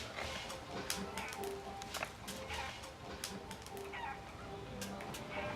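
Chickens cluck and chatter faintly near cattle on a dry, drought-stricken Brazilian farm, scattered calls over a constant outdoor murmur with occasional distant sounds.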